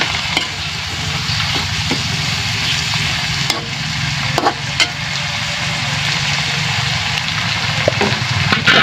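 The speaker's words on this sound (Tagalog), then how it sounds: "Haluin lang natin." Banana blossom adobo sizzles and frying steadily in a pan while being stirred, with faint scraping and occasional utensil knocks over a constant hiss.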